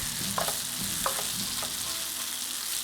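Tawa kaleji, pieces of liver, frying on a hot griddle, giving a loud steady sizzle with a few soft scrapes of stirring and no voices.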